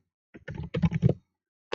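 Keys on a computer keyboard clatter in a short, close burst as text is typed into an Excel sheet, followed by a pause and a single last keystroke.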